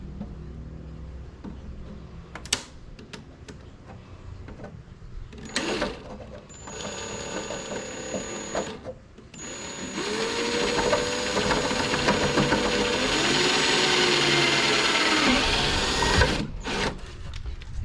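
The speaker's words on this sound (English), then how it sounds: "So let's do the pilot hole first." A power drill bores a pilot hole through a painted speaker pod, starting with short bursts and tool handling, then a sustained loud whirring drill run that ends abruptly.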